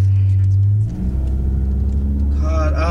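A car engine drones low and steady, then shifts and surges into a loud rev with a rising whine, close up and filling the short moment.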